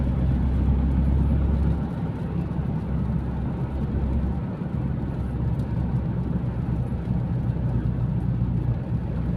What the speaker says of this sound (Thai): รถบดสันสะเทือน แคทล้อเรียบ CS11 GC ไปแล้ว แซงไปก่อนแล้วครับ